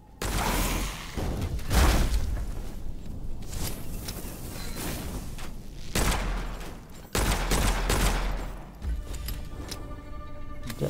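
Gunfire in the fantasy shooter Witchfire played on PC: loud, dense volleys of shots in several bursts over more than ten seconds, close and continuous, with no talking over them.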